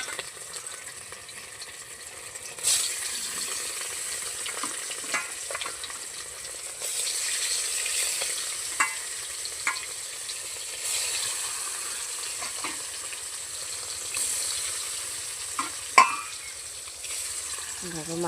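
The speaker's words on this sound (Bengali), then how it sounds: "দেখো মাছটা কড়াইতে দিয়ে দিলাম।" Fish sizzles in hot oil in a kadai wok with a steady, even hiss, broken now and then by sharp clicks and clinks of a utensil.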